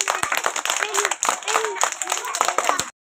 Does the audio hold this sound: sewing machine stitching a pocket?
no